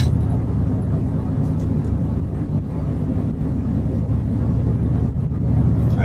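A car rolls along a back road, its steady low engine and tyre rumble filling the whole stretch with constant wind buffeting over the microphone.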